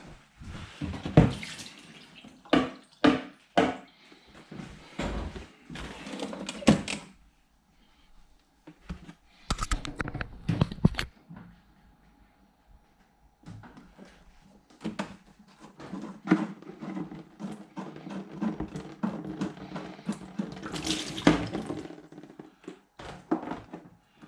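Water splashes and trickles in uneven bursts from an old-style condensate trap, with intermittent clunks and handling noises close by as it drains into a container.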